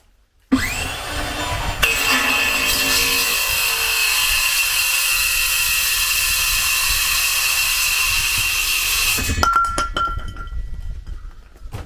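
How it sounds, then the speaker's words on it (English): A fiberglass pole section for a 12 m tower is cut with a steady, loud, continuous saw rasp lasting about nine seconds, then stopping with a few clinks and handling sounds. "So cutting fiberglass."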